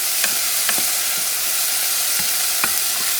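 Pink beans Puerto Rican style cooking in a pot, a steady soft simmering hiss broken by a few distinct scraping stirs of a spoon at irregular intervals, close and alone with no voices.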